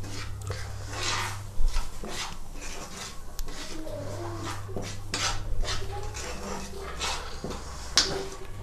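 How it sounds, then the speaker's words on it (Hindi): A spoon stirring spices into oil in a metal bowl for radish pickle, making repeated scraping and clinking strokes, close and fairly loud, with a low hum underneath. "और मसाले को अच्छे से तेल में हम मिक्स कर लेंगे।"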